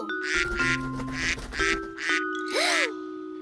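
Cartoon duck quacking in a children's animated show, a rapid series of loud nasal quacks in rhythmic bursts over background music.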